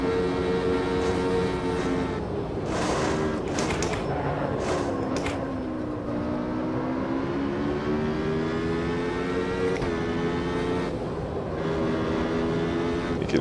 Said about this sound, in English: You can really hear those tires squealing for mercy